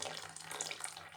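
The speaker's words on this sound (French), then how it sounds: "C'est le moment qu'on va verser la soude, qui est encore chaude." Warm lye solution is poured for soap making, a brief close trickle and splash of liquid heard alone and fairly quiet.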